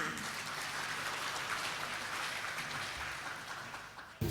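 A large audience at a hospital HR forum breaks into sustained applause to welcome guests, a dense, even patter of many hands clapping that holds steady and then tapers slightly at the end.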